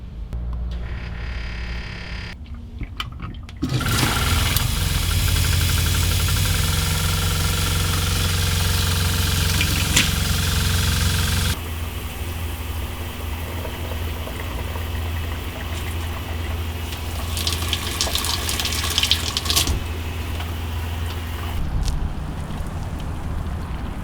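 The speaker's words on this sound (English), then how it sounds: "turn our water pump on and go through each one of our plumbing fixtures" An RV water pump runs during winterizing, flushing antifreeze out through the plumbing fixtures: a steady droning hum with a hissing water rush that grows louder for several seconds, then settles to a lower continuous whir.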